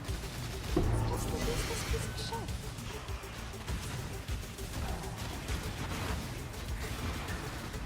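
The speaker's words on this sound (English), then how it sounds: "all the explosions you're seeing now, the white explosions, that's shockwave getting triggered" Rapid white shockwave explosions trigger in a Path of Exile Blight Occultist map, a dense, continuous barrage of overlapping blasts and crackles with a loud impact near the start, while someone talks over the game sound throughout.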